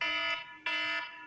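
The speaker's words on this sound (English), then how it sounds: "That's my alarm." An electronic alarm, apparently a phone alarm, rings in two bursts of sustained, harmonically rich tone with a brief dip between them. It is loud and close, and no voices are heard.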